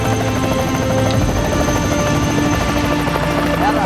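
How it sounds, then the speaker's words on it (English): Helicopter taking off in the Kenyan bush during rhino conservation work, a steady loud rotor and engine roar filling the whole stretch without break. "the helicopter pilot with one of the spotters take off"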